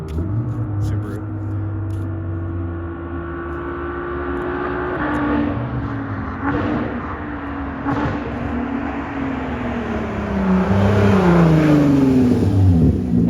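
A straight-piped Nissan R32 screams past nearby, revving hard with rising pitch and sharp spark-cut pops at the shift from second to third gear, then fades off as people react in the background.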